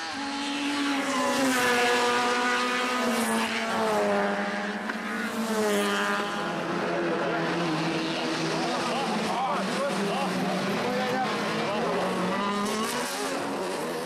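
Race cars lapping the Veliko Tarnovo circuit, engines screaming in rising and falling high-revving wails as cars pass close and loud, with a commentator talking over them throughout.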